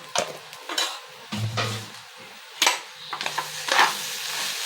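Egg rice tossed and stirred in a pan over high flame, several distinct scraping strokes of a ladle against the metal with a soft sizzle underneath, close and moderately loud.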